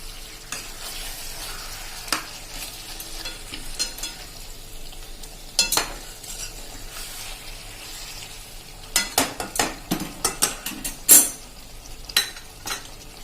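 Spoon scrapes and clinks through a capsicum and potato curry in a pan, a soft background sizzle running under irregular stirring knocks that grow busier and sharper toward the end.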